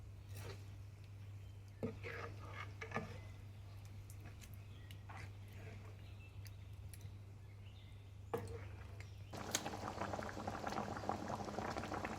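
Mutton curry bubbles and boils in a pot with soft popping and gurgling over a steady low hum, and a few brief clinks are heard near the start.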